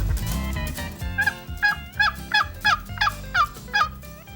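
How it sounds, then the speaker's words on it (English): Wild turkey hen yelps or a hunter's turkey call in Michigan woods, a series of about eight sharp, evenly spaced clucking yelps rising over low rumbling background noise, fairly close and loud. "it could be a hen turkey trying to woo in a gobbler, or it could be a hunter trying to use a call like this"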